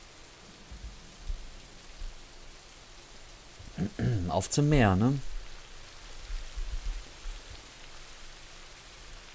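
Steady rain hisses throughout in the Rising World game, with a brief burst of speech over it near the middle.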